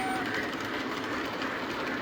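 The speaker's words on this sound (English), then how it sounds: "this is the Polar Express elf train. Nice little switcher engine" A small Polar Express elf switcher engine on a model train layout hums and clicks steadily along the track at low level, with a voice talking over it.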